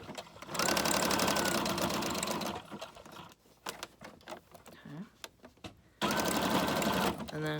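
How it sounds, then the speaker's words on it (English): A sewing machine stitches through a paper bag junk journal, running in a steady rapid whir, pausing for a back stitch with small clicks and handling noises, then starting up again at full speed. "So do a back stitch at the beginning."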